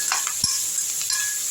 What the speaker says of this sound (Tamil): நல்லா வதக்கி விட்ருங்க.